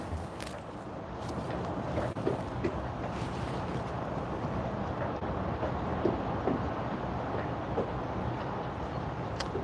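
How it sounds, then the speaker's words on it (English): Wind buffets a moored boat's canvas cover, giving a continuous low rushing roar with irregular soft flaps and knocks, close and steady throughout. "the noise from this boat is basically the canvas that I'm sitting behind"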